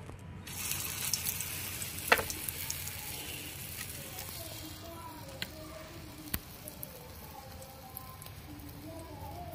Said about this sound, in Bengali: আবার ভেজে নেবো এইভাবে পকোড়াগুলো